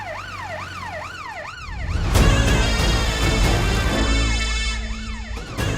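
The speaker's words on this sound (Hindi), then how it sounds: "ये तो पुलिस के सायरन की आवाज है ना?" A police siren wails close by with rising and falling cycles, drowned out midway by a loud rumbling vehicle passing, then the wail returns.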